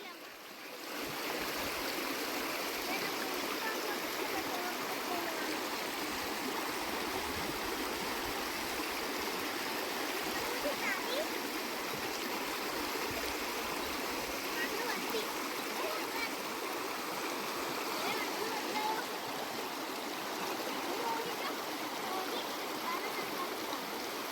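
A stream rushes steadily past in a rural landscape of bamboo thickets, a dense, continuous wash of flowing water that stays constant and fairly close throughout.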